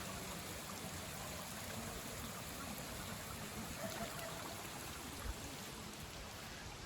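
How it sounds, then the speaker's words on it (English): Water rushes steadily down a wooden, board-lined flume at a mill in the Smoky Mountains, a soft, continuous hiss and burble with no break or talk. "they've got the water running through the water flume all the way down."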